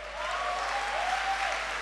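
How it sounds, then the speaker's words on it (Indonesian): An audience in a church applauds in a brief, dense burst of clapping that holds at a steady level throughout. "Tepuk tangan."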